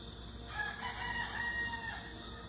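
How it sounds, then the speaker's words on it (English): A rooster crows at sunrise, a single faint, distant call lasting over a second against a quiet steady outdoor background. "Rooster's right on time."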